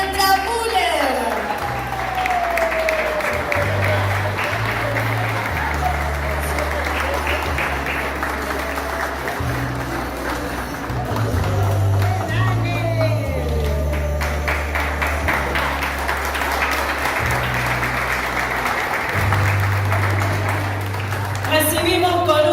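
Loud applause from a crowd greeting an arriving speaker, Argentina's secretary of culture, tourism and sport, sustained clapping over a driving music track with cheers and talk mixed in throughout.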